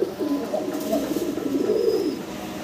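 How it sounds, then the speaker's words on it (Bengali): Fancy pigeons kept in pairs with eggs and chicks coo close by, a continuous low warbling run of throaty coos with no voices. "দেখেন জোড়ায় জোড়ায় বাচ্চা সহ কিন্তু আজকে কবুতরগুলো থাকতেছে, ম্যাক্সিমাম কবুতর ডিম বাচ্চা সহ।"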